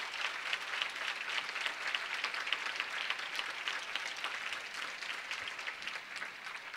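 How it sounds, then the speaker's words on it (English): Steady applause from an audience at a gathering, many hands clapping in a dense, even wash that holds for several seconds without pause, moderately distant and fairly quiet. "give them a round of applause"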